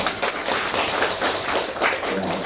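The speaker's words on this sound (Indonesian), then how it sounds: "kita beri aplaus dulu kepada pemateri kita, teacher Heri dan teacher Yanti" Applause from an assembled audience at a morning school gathering, a dense steady wash of many hands clapping continuously for a few seconds, fairly loud and close, with no voices over it.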